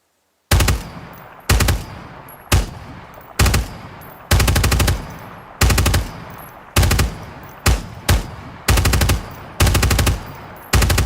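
Long bursts of machine gun fire from a PKM and a Mark 46 in the tactical shooter Ground Branch, about a dozen loud, sharp volleys with brief pauses between them, heard alone with no talk.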